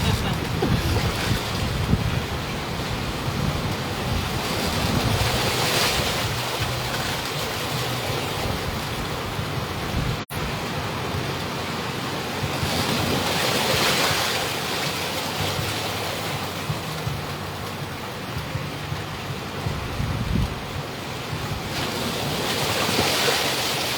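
Ocean waves surging and washing repeatedly at a beach, broad and rushing, with steady wind noise buffeting the microphone throughout.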